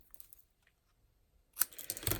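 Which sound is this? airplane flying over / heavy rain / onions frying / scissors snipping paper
scissors snipping paper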